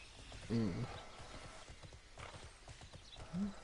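Horse hooves clip-clop steadily while riding in the online game TERA, with a couple of whinnies rising over the steps and faint background sound throughout.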